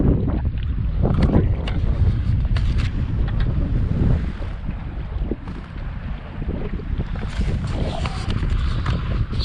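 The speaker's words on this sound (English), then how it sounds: "I've got the wind pushing me down the lake" Wind blows steadily over a lake from a small boat pushed along by it, a constant low roaring rush with buffeting gusts on the microphone and faint water sounds underneath.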